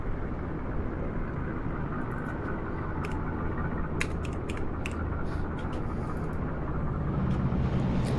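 A steady, loud engine drone from a light short-takeoff aircraft in Microsoft Flight Simulator during an eSTOL takeoff run, holding constant throughout with faint mechanical creaks on top.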